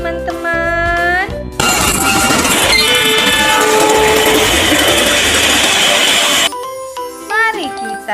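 A toy train runs loudly for several seconds with a steady mechanical whir and whistle-like tones, among a child's collection of toy vehicles. Brief voices and chirpy sounds come before and after it.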